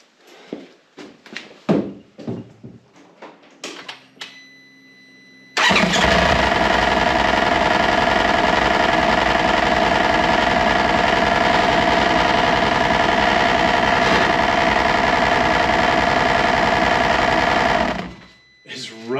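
A Polaris General side-by-side with a newly installed Duraclutch CVT runs steadily for about twelve seconds, a loud buzzing whir with a scraping rub from the clutch against its cover, after a few brief knocks and clanks.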